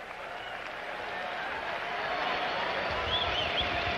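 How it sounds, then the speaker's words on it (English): Boxing-match crowd at a bout between Mia St. John and Amanda Skelton, a steady wash of applause and cheering that swells slightly toward the end, with faint whistles near the close. "the crowd seemed to have enjoyed it"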